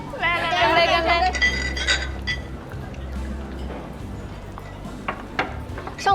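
Glasses clink together in a celebratory toast at an office gathering, several bright chimes in the first two seconds while voices cheer and chatter, then lighter clinks fade under background talk.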